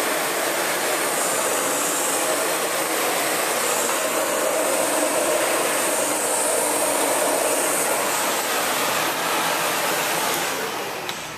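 Sebo Felix upright vacuum cleaner running with its brush roll switched off for bare floors, a steady, loud, continuous airy whoosh of motor and suction that holds level throughout, then begins to fade at the end.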